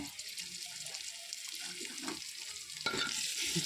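Tyson chicken frying with ginger garlic paste, a soft steady sizzle and light bubbling close by, growing a little louder and brighter near the end, no speech.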